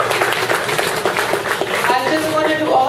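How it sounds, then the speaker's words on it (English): Brief round of applause from attendees at a business association meeting, a moderate burst of clapping mixed with voices, filling the room for a few seconds. "I think he deserves a round of applause"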